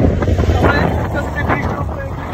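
Strong wind buffets the microphone on a bridge above a river, a steady loud roar of gusting air filling the whole span with no letup.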